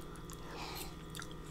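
Someone chews king crab legs dipped in Alfredo sauce, soft close-up wet munching and light crunches, quiet and without talk.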